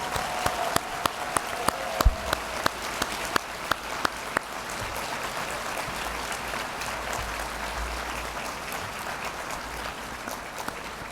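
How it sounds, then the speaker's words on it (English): A room full of people applauds past honorees standing at a Women of Influence event, with distinct sharp claps at first that quickly merge into a sustained, evenly spread wash of clapping from a large crowd. "Give them a big round of applause"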